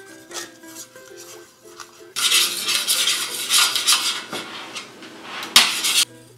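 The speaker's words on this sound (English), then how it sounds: "We'll just keep stirring that until it all comes together." Mustard and about a quarter cup of Prairie Farms heavy cream stirred together in a pan for pork moutarde, a spoon scraping and clinking against the metal in busy, continuous strokes after a quiet start, close and fairly loud.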